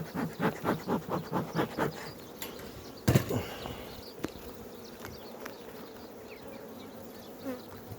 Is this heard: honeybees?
yes